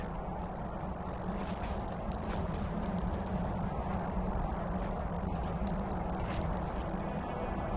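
A donkey's hooves clip-clop at a steady, even walking pace in the video game Enderal: Forgotten Stories, over continuous background noise, with no voices.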